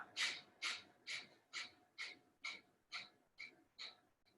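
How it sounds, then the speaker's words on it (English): Repeated forceful breaths in a yoga breathing exercise, about ten sharp, evenly spaced exhalations through the nose, close and moderately loud, with no talking. "Take a deep breath in"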